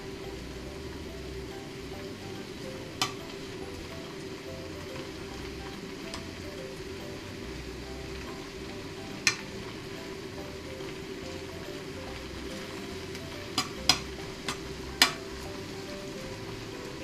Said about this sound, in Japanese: それをちょっと焼いていきます。